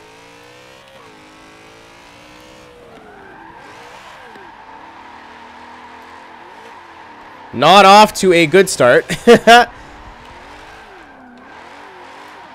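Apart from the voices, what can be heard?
BMW E92 drifting with turbo at Silverstone, racing video game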